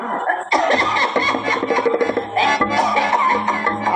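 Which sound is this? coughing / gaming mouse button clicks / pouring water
coughing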